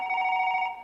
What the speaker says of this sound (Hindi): बच्चे के स्कूल से फोन।